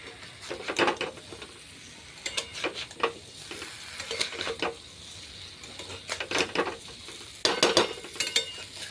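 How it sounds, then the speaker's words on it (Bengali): Sugar slowly frying and melting in a pan for a mango pickle, with irregular scraping stir strokes and soft crackles recurring in bursts, close up and moderately loud, with no voices. "চিনিটা আস্তে আস্তে ভেজে নিতে হবে"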